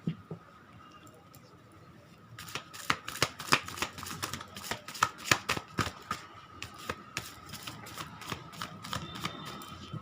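A deck of cards being shuffled and mixed by hand, heard as dense rapid riffling flutters with sharp snaps, close and moderately loud, starting after a quiet moment and continuing to the end with no talk.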